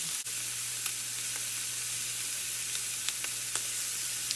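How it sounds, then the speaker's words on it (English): Filet mignon sears in a hot pan at home, a steady close sizzle and hiss throughout with scattered small pops and spatters. "I'm going to start searing the sides."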